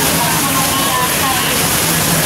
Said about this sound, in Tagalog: Grabe, may typhoon kasi eh. Kaya lakas ng ulan mga kapatid.